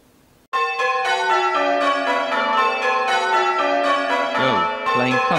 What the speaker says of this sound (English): Let's hear the magic as we run A bell and hear all the bells ringing together